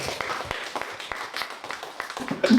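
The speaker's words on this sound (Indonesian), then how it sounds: "Tepuk tangan untuk kita semua dulu." Applause from a group gathered for a teachers' meeting or coaching session in a room, a steady patter of many hands clapping at moderate volume, with a brief louder burst near the end.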